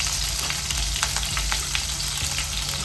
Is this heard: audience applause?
no